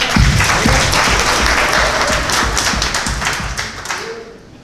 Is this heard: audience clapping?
yes